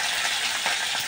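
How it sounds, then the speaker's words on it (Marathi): Mustard seeds and curry leaves fry in hot oil, giving a steady close sizzle with faint crackle and no talk. "तेल गरम झाले, आता मोहरी टाकली, कढीपत्ता,"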